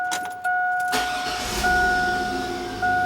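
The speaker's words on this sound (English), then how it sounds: "We go into the vehicle here, start it up again" Car engine cranking and catching at about one second, then a steady idle with a high whine from the vehicle's systems, heard up close from inside the cabin.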